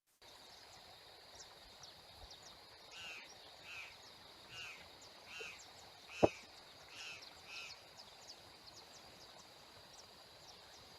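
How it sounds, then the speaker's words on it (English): Birdsong in a Brazilian mountain landscape near a state park: soft, repeated chirping calls at moderate distance over a faint steady hiss of insects or flowing water, with one sharp louder note midway. "here's a little video, which I hope you can hear the bird song on"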